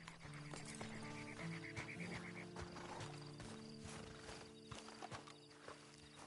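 Horse hooves clip-clopping in the video game Red Dead Redemption Online, a steady trotting rhythm with a brief whinny, set against a droning ambient music bed and faint night insects, fairly quiet overall.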